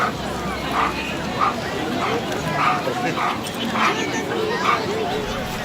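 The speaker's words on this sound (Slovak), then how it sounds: "takže pes ho napadol zase" Police service dog barking and yelping in repeated bursts during a bite demonstration by city police at a public event, heard mid-distance under the murmur of a crowd.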